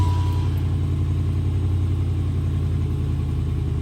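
A Chevrolet Caprice Classic fitted with a Flowmaster Flow FX exhaust idles close by, a loud, steady, deep rumbling drone that holds even throughout with no voices.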